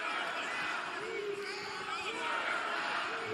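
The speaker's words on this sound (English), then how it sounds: "the fans still cheering on the back foot since the opening bell in this match" A wrestling crowd in an arena in New Orleans, Louisiana, keeps up a dense, steady roar of cheering and chatter throughout, with a voice calling over it.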